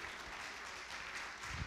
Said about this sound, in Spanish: Give him a strong round of applause this morning.